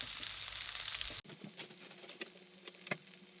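Onions gently frying in a pan on low heat for a lentil curry, a steady close sizzle that briefly cuts out, then lighter crackling and spitting continues.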